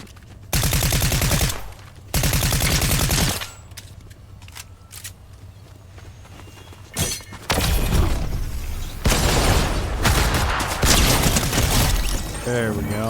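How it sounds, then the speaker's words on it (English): SMG gunfire in Fortnite Zero Build, rapid automatic bursts in several loud stretches separated by quieter gaps with scattered impacts and game noise, a voice talking at points. "I had to rely more on my SMG right there"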